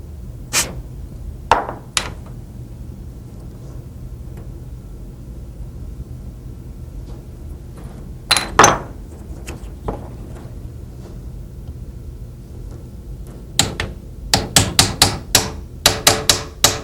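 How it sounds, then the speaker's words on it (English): A hammer strikes a pistol's front sight to drift it sideways into the slide's dovetail, held in a vise: sharp metallic taps, sparse single blows at first, then a rapid run of close, repeated strikes. "when drifting this front side into place, you need to be sure and only strike it on the lower part"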